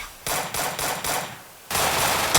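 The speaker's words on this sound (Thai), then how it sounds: "เรากำลังจะยิงเลยเพื่อน" Rapid automatic gunfire from the Free Fire video game comes in a few sustained, crackling bursts with a brief lull between them, loud and harsh.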